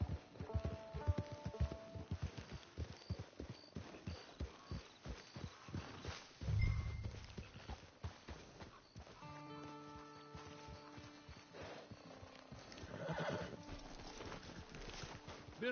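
Horse hooves in Red Dead Redemption 2 Online clip-clop at a steady walking pace, fairly faint, with a brief low thump midway and soft ambient tones behind.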